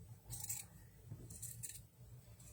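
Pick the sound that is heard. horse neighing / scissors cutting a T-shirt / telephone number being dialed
scissors cutting a T-shirt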